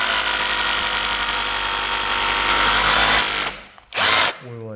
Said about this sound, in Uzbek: Perforator devor tegish.